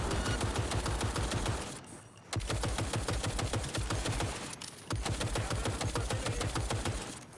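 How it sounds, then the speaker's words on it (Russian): Rapid automatic gunfire in the video game Cyberpunk 2077 rattles in long sustained bursts, with two brief pauses between volleys, loud and dense throughout. "Пока Мус стреляет, я не вижу."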